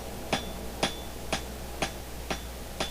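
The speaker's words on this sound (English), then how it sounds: "I find the hammer gives a really nice texture on the front surface of the flower" Six evenly spaced hammer strikes ring out on hot 1/4 inch steel bar stock as a blacksmith forges a wild rose petal, each blow sharp with a brief metallic ring over a low steady hum.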